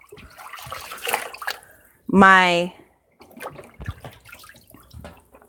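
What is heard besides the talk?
water running while rinsing a rag in a tub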